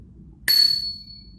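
A single bright ding from the handlebar bell of a Giant Rock 6000 bicycle, struck once and ringing out clearly with a sustained metallic tone that fades over a second against quiet background.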